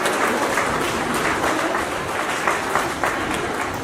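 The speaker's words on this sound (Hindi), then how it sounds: "जोरदार तालियों के साथ आज के मुख्य अतिथि महोदय जी का स्वागत कीजिए" An audience at an institutional speech event claps loudly to welcome the chief guest, a steady, dense round of applause from many hands that runs through the whole stretch with no voices.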